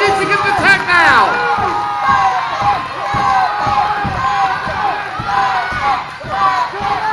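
A wrestling crowd at a live indoor show in Trumann cheers and shouts continuously, with rising yells and scattered whoops and a few thuds, under a commentator's voice.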